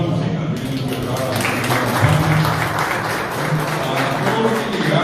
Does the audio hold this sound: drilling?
no